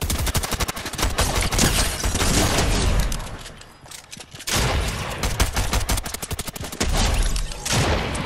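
Rapid gunfire in the Fortnite video game, dense bursts of shots crackling almost continuously with a brief lull midway before the shooting resumes loud and close.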